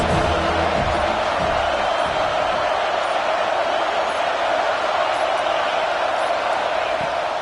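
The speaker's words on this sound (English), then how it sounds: "Big third down as the crowd gets behind this defense." A football stadium crowd roars in a steady, dense wash of cheering for the defense on a big third down, loud and continuous with no clear individual voices.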